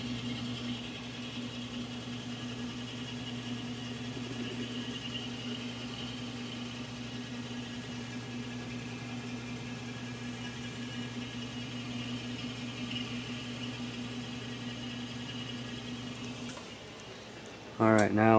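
A metal lathe facing off a carburetor piece for a fuel mixer hums with a steady motor drone and faint cutting noise for a long stretch, then ends with a short, sharp mechanical burst.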